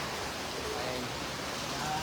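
Rain falls outdoors during a storm at an eatery where people are still eating, a steady soft hiss of drops filling the background at low volume throughout.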